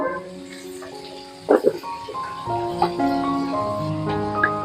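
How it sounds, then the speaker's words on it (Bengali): Vegetables fry in a pan for chicken chowmein, soft sizzling under background music with a few clattering stirs and scrapes in the middle. "সবজিটা ভেজে নেওয়ার সময় একটু নুন দিয়ে দেব।"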